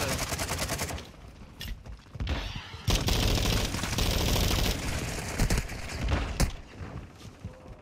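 Shotgun blasts and other gunfire in Call of Duty Warzone, loud sharp shots mixed with sustained rapid firing and explosive rumble, close and intense, with no talking.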